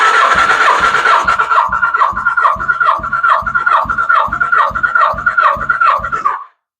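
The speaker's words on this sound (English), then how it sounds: "I stopped cranking the engine as soon as I saw that gauge stop advancing" A motorcycle engine turns over on its electric starter during a compression test, giving a steady, rhythmic chugging of about a dozen even compression pulses at close range, with no talk, before cutting off abruptly.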